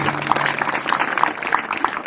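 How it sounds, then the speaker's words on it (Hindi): An audience at a youth gathering gives loud applause, a continuous dense clatter of many hands with a few sharper beats standing out at a regular pace, heard alone without speech. "जोरदार ताली बजाइए, जोरदार ताली"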